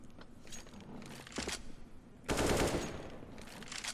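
Gunfire rings out in a competitive shooter video game during a bomb-planted round of a tournament grand final, with several sharp shots and a louder burst, fairly quiet overall.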